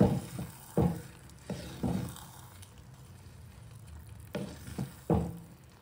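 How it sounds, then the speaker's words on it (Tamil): Thick Chidambaram-style brinjal kothsu keeps bubbling in a clay pot after the stove is off, giving soft, irregular plops and pops with quiet gaps between them. "மண் சட்டிங்கிறதுனால பாருங்கள் இன்னுமே கொதிச்சிட்ருக்கு"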